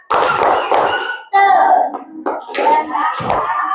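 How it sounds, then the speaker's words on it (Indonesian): Children in an Indonesian classroom perform a rhythmic clapping chant as an ice-breaker before the lesson, with sung voices and sharp hand claps in quick bursts and short pauses, loud and close. "Ya, tepuk semangat."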